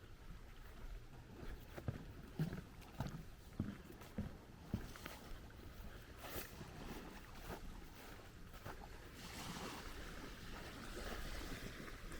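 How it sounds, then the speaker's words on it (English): Waves wash faintly onto a seaweedy beach on a calm day with light wind, a soft distant surf hiss with intermittent small splashes and gentle wind rumble. "And a seaweedy day at the beach."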